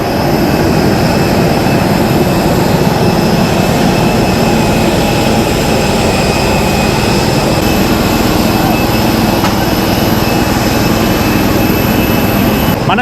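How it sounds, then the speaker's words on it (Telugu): An IndiGo passenger jet at the airport during boarding, its engines giving a loud, constant roar and high whine that fill the whole stretch with no break and no voices. "ఇది మన ఫ్లైట్ ఇండిగో."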